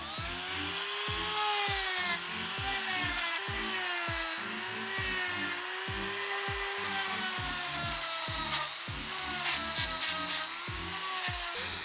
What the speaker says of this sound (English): All the flux has been soaked off the bottom bracket shells, so I'm going to do some filing.